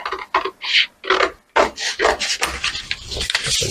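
Scissors cutting blouse fabric while shaping a 43-inch straight-front blouse, with a series of close, rasping snips and slides in irregular bursts, heard alone without talk.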